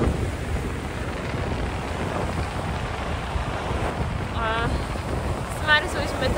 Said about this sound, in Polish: i wieje, więc nie wiem, czy mnie słychać